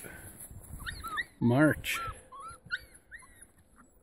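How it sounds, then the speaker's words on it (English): Young six-week-old Elkhound puppies on a mountain hike give high whimpers and yips, with someone talking briefly in between. "These are good mountain dogs, these ones, boy."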